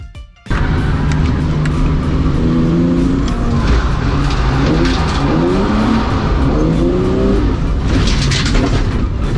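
A BMW drift car revs hard and skids, its engine note climbing and falling in repeated pulls over a continuous roar of tire squeal, loud and close throughout.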